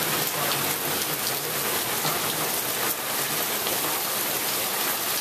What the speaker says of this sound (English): So it has been raining like crazy.